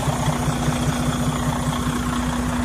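A 2015 Freightliner Cascadia 125 truck's engine idling steadily, a continuous low rumble with a faint rhythmic pulse, close and even throughout with no voices.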